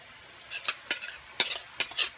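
A spoon stirs prawn curry frying in a pan, several quick scraping strokes over a soft sizzle, close and clear with no talking.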